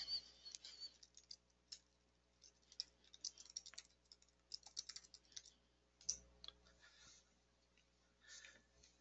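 A workflow name is typed on a computer keyboard, a quiet, uneven patter of light key taps with a few brief pauses and a low hum underneath.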